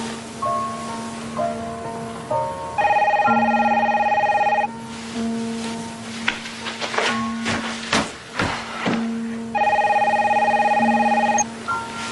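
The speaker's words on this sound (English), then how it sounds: "Phone." A telephone rings in repeated bursts of bright electronic trills, loud and close, with quieter rustling and thumps between the rings and no talk.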